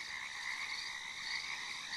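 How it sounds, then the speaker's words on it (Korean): A steady chorus of frog croaks in a video game swamp scene fills the clip, a dense, continuous trilling that stays soft and even throughout. "개구리 소리를 한번 넣어볼게요"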